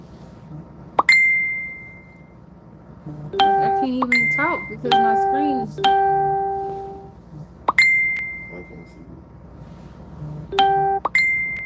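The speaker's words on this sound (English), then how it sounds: "look at all these notifications that's popping up on my thing" Phone notification chimes pop up again and again in quick clusters, bright ding-like tones stacking over each other, while a person talks over them.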